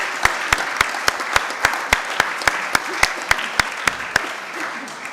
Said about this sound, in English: can I ask you to give them a round of applause for our lovely lunch?